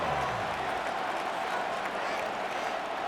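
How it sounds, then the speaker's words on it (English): A broad roar of a big stadium crowd in the video game Madden NFL 26 fills the background during a Giants versus Patriots football game, steady and moderately loud, with no clear speech on top. "this crowd making it hard to hear"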